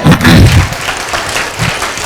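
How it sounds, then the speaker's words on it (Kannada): An audience at a school day event applauds, a loud burst of dense clapping from a crowd that carries on steadily for a couple of seconds. "ಎಲ್ಲಕ್ಕಿಂತ ಹೆಚ್ಚಾಗಿ ನಿಮಗೆ ಪೇರೆಂಟ್ಸ್ಗೆ ಮತ್ತೊಂದ್ಸರಿ ಚಪ್ಪಾಳೆ"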